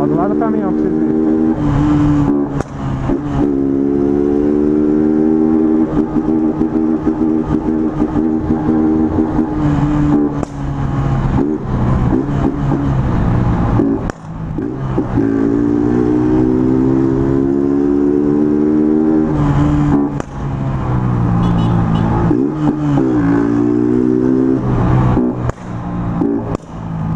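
A fuel-injected motorcycle rides alongside a truck, its steady engine drone broken by intermittent sharp exhaust pops while someone talks loudly over the noise throughout.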